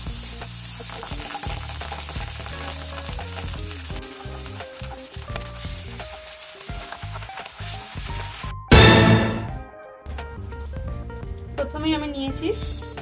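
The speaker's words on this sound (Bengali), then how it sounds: "এখন আমি পরিমাণ মতো তেল দিয়ে দিলাম মাছটা ভাজার জন্য" Hot oil sizzles in a wok before pabda fish is fried, a crackling hiss with stirring sounds and a sudden louder sputter of frying near the end.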